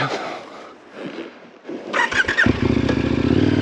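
A dual sport motorcycle skidding, its engine revving up loudly and close after a quieter start, with a scraping squeal of the tyre.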